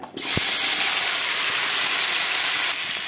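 Cut potato sticks and sliced flat beans drop into hot oil with a sudden sharp sizzle that settles into a continuous loud frying hiss, easing slightly near the end.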